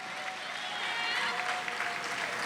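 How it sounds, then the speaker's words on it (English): Brief, even applause from the audience at a senior women's pageant for a contestant, soft and steady with voices faintly mixed in. "let's give a round of applause for contestant number 5, Deborah Clark."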